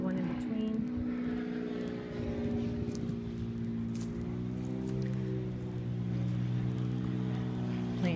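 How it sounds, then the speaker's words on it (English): A propeller plane drones overhead above a cemetery in Sanford, a steady loud hum whose pitch slowly bends as it passes, with some rustling and handling noise close by. "Plane going overhead."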